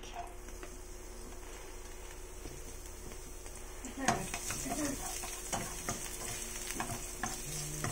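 Chopped garlic sautés in a little oil in a pan, a steady close sizzle that grows busier midway as a utensil stirs and scrapes against the pan.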